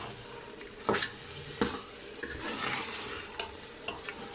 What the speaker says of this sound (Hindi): और अब हम इसके अंदर टमाटर डाल देते हैं ताकि अदरक लहसुन के साथ टमाटर भी ज़रा पक जाए।